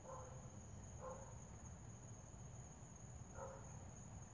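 A dog barks far off, three faint barks against a steady insect drone and a constant high whine.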